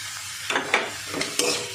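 Chopped cashews and raisins stirred in a frying pan over medium heat, a soft sizzle with four distinct scraping strokes of the spatula spread evenly, close and fairly quiet.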